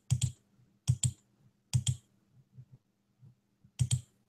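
A computer mouse is clicked in quick double clicks, four pairs spread over a few seconds with faint softer taps between them, close and quiet in an otherwise silent room.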